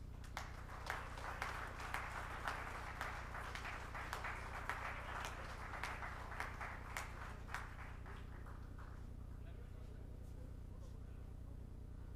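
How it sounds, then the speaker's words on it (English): Scattered audience clapping at a memento presentation during an export summit, a modest round of distinct claps over a constant low hum, fairly quiet and distant, tapering off after about eight seconds. "Please give a big round of applause."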